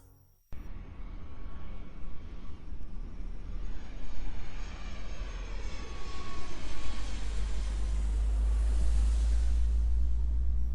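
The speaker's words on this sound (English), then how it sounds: "As the plane touched the runway at the Cairo International Airport, Silas shook his head a few times" An airplane lands at Cairo International Airport, its engine roar rising from a sudden start into a loud, sustained rumble with a deepening low-end swell toward the end.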